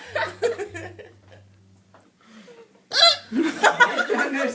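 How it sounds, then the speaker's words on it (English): A girl hiccuping amid bursts of laughter, sharp short hiccups mixed with giggling and chuckling at close range, with a quiet pause between the laughing spells. "Trying to take the hiccups away from her."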